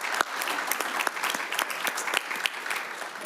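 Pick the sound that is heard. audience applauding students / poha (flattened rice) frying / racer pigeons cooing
audience applauding students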